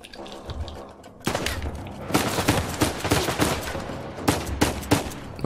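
Gunfire in the video game Uncharted 4: sustained rapid bursts of shots and heavy automatic fire, loud and continuous after a brief quieter start, layered over a steady low hum.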